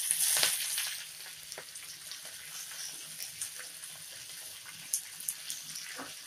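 Cumin seeds, green chilies and curry leaves sizzle in hot oil for Gujarati kadhi, a loud initial crackle that settles into a steady close hiss with a few small pops.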